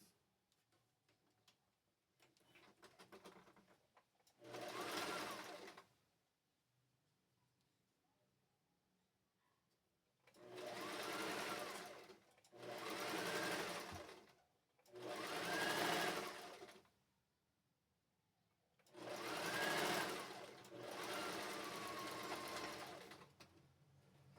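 A sewing machine stitches the back seam of unisex shorts with elastic legs, running in five separate bursts of about one to two seconds each, with quiet pauses between runs.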